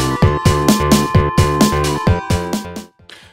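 Video game style music built from soundfonts in GarageBand plays loud and up front, with a steady run of punchy chords and bass notes in a bouncy rhythm before a brief softer tail.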